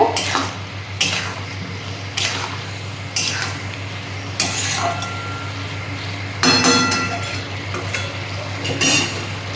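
A mustard, ginger and green chilli paste is sautéed with fish heads in a pan, stirred with regular scraping clinks of a utensil against metal, roughly one per second, over a constant low background hum.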